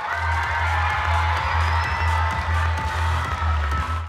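Crowd cheering and clapping at a Kärra HF handball club season-ending event, a loud, steady roar of voices and applause with a constant low hum underneath throughout.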